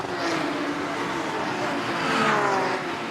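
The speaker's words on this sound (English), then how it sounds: "Harper up the curb, now left into Cobb, then right at Seagrave, speed building all the time from here on in" Porsche Carrera Cup GB race cars lapping Thruxton circuit, a loud continuous engine roar that builds slightly as speed rises through the corner complex, heard alone without voices.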